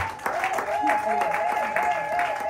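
Congregation applauding at a Sunday worship service in a church in Sherbrooke, steady crowd clapping throughout with a sustained tone and voices over it.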